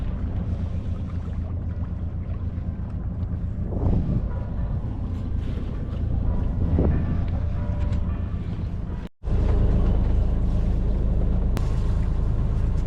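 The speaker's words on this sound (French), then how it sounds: "Il y a un petit peu de vent. On est parti avec la voile." A sailboat under sail in light wind off Cadaqués, Spain, heard as a steady low rush of wind and water against the hull, with a brief gust of microphone buffeting near the end.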